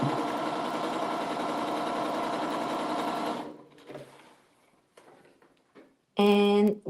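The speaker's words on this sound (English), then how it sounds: "finished sewing up our entire block." A sewing machine stitching a quilt block runs in a steady close whirring hum for several seconds, then stops, followed by quiet handling noises and a short burst of voice.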